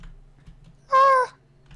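A single short, bright meow from a cat in a Minecraft minigame, loud and close, against quiet background clicks.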